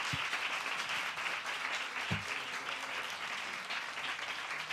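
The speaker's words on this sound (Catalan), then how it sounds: "un fort aplaudiment per ell" Fairly faint, steady applause from a concert audience at a LOS40 Backstage show, a continuous wash of clapping with a couple of low thumps and no speech.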